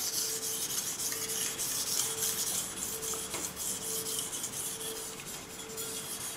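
A knife scrapes steadily back and forth on a Suehiro Ryokuka whetstone in even, rasping strokes, close and moderately loud, with no talking.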